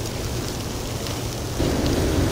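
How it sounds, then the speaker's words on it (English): Storm raging outside a winter camp during a blizzard, a dense steady roar of rain and wind with a low rumble that swells louder toward the end. "Just listening to the storm around me, pretty much."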